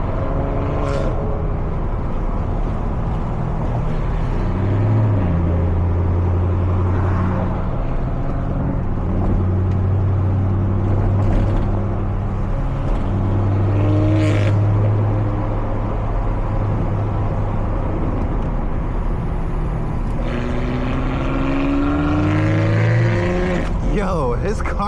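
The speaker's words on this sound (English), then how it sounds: "his car is so loud." A loud car engine idles and revs at a night car meet, a deep droning rumble with rising pulls near the end, as people talk nearby.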